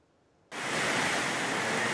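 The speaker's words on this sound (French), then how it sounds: "Les flots de la rivière sont encore déchaînés" A raging river in flood in the Gard region, its turbulent water bursting in suddenly as a loud, dense, unbroken roar close by.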